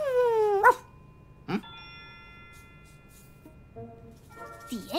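A dog in a film scene gives a few short, high, whining yelps, one at the start and another at the end, with a faint steady chime-like tone lingering between them in an otherwise quiet room.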